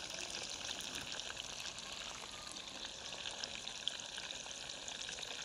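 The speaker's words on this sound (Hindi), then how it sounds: "हल्की आंच पे फ्राई करेंगे तो थोड़ा जो है जलने का जो ख़तरा होता है ना वो कम हो जाता है" Partridge frying in oil on low heat, a soft, steady sizzle crackling gently and evenly throughout, no voices.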